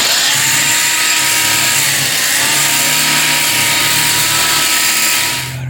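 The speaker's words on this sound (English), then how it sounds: "I can just hope I can get there correctly without breaking the blade" A power tool blade saws through a broken rear leaf spring on a Toyota Tacoma, right beside the rubber bushing. The loud, steady metallic whine holds for about five seconds, then trails off, with no talking.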